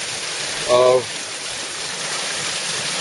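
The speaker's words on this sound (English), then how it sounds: "this water runs all year round" Water streams steadily below a small dam, a continuous bright rushing hiss; a voice cuts in briefly near the start.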